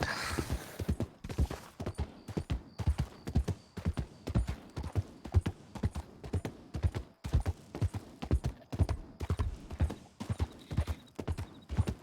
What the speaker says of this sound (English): We certainly move a lot faster with a horse.